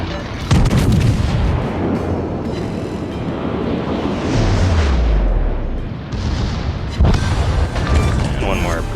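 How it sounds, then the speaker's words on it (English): Battleship main-gun volleys from the USS Massachusetts in the naval game World of Warships, deep booming blasts and rumbling explosions that rise and fall over several seconds, with someone talking over them. "Good volley there, finishing him off"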